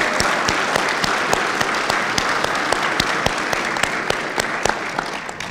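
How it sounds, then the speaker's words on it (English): Audience applause at a veterans hall of fame recognition ceremony, dense, continuous clapping from many hands at moderate loudness with sharp individual claps standing out, sustained for over five seconds. "I think that deserves a round of applause."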